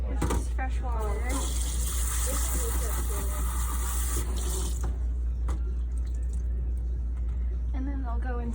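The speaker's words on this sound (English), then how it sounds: "we will rinse these off. This is fresh water." Fresh tap water runs steadily over surgical instruments fresh from an ultrasonic cleaner, rinsing them clean. The flow hisses close by throughout, and a person talks over it.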